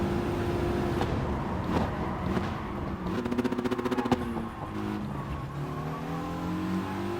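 Race car engine from Gran Turismo Sport at the Nurburgring GP, a Group 4 car droning steadily with a rapid rising rev burst and gear change midway, loud and close throughout with no talk.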